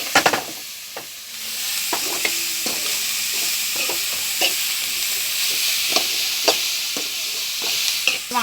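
Spinach leaves stir-fried in a hot pan, with a steady loud sizzle and frequent sharp clicks of a spoon stirring and scraping, with no voices.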